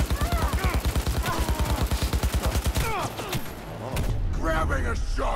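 Rapid gunfire in Cyberpunk 2077 on Very Hard difficulty, a fast regular burst of loud shots for about three seconds, then a pause and more chaotic combat noise with a voice shouting over it.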